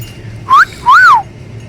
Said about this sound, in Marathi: शिट्टी मारतो